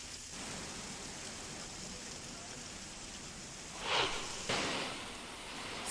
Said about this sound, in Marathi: काही भागात रिमझिम पाऊस आहे तर काही भागात पावसाचा जोर आहे